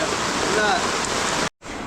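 Steady rain and rushing floodwater pour during a storm in Jaffna, a dense continuous wash with people talking over it and a brief cut near the end.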